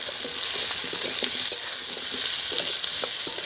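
Potatoes and onions frying together in hot oil, a loud continuous sizzle with soft rhythmic scraping as a utensil stirs them in the pan, close up and without speech.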